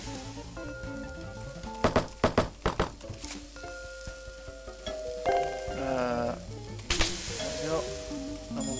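A meat patty sizzles on the grill in the video game Cook, Serve, Delicious, a steady fry crackle under a run of sharp thunks and chimes from the game.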